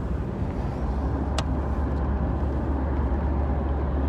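Car interior on the A13 slip road as the vehicle merges onto the dual carriageway: a steady low engine and road rumble, close and constant, with one brief faint click partway through.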